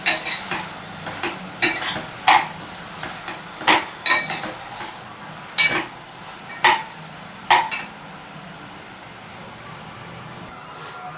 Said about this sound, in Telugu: ఇలాగా సాల్ట్, పసుపు వేసాక ఇలా ఒకసారి కలిపేసుకోవాలి.